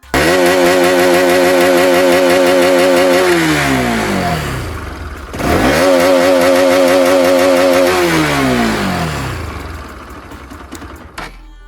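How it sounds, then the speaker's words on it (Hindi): A second-hand motorcycle engine revs hard to full throttle twice, each surge rising in pitch with a loud, rasping exhaust before falling away and dropping back to idle, close to the bike with no talking. "फिर उसके बाद फुल एक्सीलेटर दो।"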